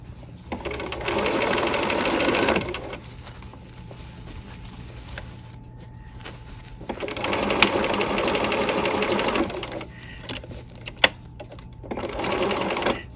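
A sewing machine stitching a sleeve runs in three close, steady bursts of rapid rhythmic whirring, separated by quieter stretches with a low background hum and a sharp click near the end.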